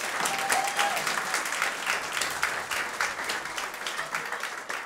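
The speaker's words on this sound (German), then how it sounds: "Einmal bitte klatschen." A comedy audience in a laundromat setting breaks into a burst of applause, many hands clapping together at moderate volume for several seconds, with no voices over it.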